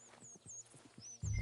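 Horse in the Red Dead Redemption 2 video game, a few soft hoof clops followed by a sudden loud, close whinny-like burst at the end, with faint high whistling tones above.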